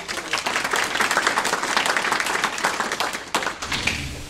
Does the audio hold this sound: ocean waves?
no